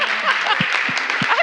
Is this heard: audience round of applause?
yes